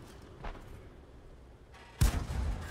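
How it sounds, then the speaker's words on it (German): Tank cannon shot in the World of Tanks game on the Malinovka map, a single loud, sharp boom with a rumbling tail that stands out suddenly from quieter game ambience, preceded by a fainter distant thump. "Alle gibt da einen Schuss ab."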